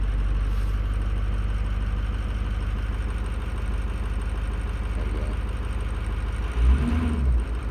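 A 2005 truck engine rumbles at a steady low idle, close and loud, as it is driven slowly into the shop, with a brief rev swelling near the end.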